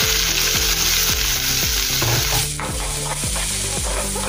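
Chopped onion dropped into hot oil already spiced with mustard seeds, cumin and asafoetida, sizzling loudly and steadily while a spoon scrapes the pan in repeated rhythmic strokes, close up, with no talk.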